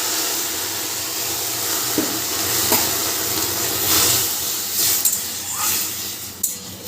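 Water poured into a hot pan of fried moong dal that has turned reddish, giving a loud, steady hiss and steaming sizzle with a few small pops and clatters.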